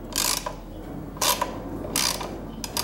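A 10 mm screw is ratcheted out of the fuel tank mount on a Kawasaki KS II-50 motorcycle, with three or four bursts of close, crisp ratchet clicking separated by short pauses.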